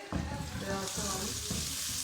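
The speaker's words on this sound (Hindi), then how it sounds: "अब तेल के अंदर हम ये प्याज डाल लेते हैं।" Onions hit hot oil in a pan and sizzle loudly and steadily at close range, with a few stirring scrapes over the continuous frying hiss.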